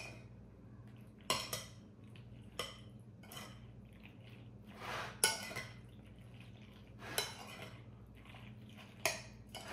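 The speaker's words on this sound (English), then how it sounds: "scrape out the bowl because, you know, why leave it all in the bowl when it can go on the food?" A spoon scrapes macaroni salad out of a bowl in repeated sharp strokes, with clinks and scrapes coming every second or two, close and fairly quiet.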